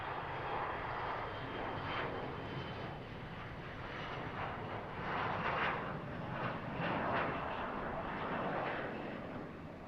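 An aircraft arriving at Harrisburg airport on a summer evening gives a distant, broad engine roar that swells and fades gently, fairly faint and with no talk.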